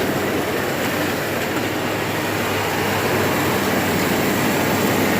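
A 1984 Ford F250 4x4 with a 460 big block 7.5L V8 idles steadily at about 800 RPM after a carburetor adjustment, a constant loud rumbling drone held close with no talk.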